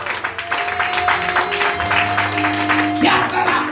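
A church congregation claps and cheers to acclaim the Lord, a steady dense patter of applause over sustained organ or keyboard chords, with voices mixed into the crowd noise.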